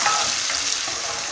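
Sliced onion and chopped tomatoes frying in a pan, a close steady sizzle with bubbling crackle throughout.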